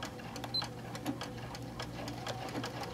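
A home sewing machine stitches in reverse at normal stitch length while a fabric cover is sewn, with a steady mechanical chatter of rapid regular clicks running throughout at close range.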